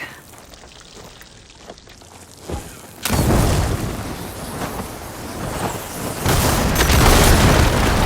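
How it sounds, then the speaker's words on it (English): Blaze barrels struck by fire ammo burst in a cave in Horizon Forbidden West: after a quiet stretch and a small pop, a loud deep explosion erupts, then a rumbling roar carries on with a second swell near the end. "Hitting those blaze barrels with fire ammo should do the trick."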